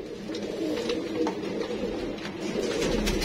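A pair of quails with black claws calling, a steady, busy run of soft cooing and chirping notes, close and continuous with no talk.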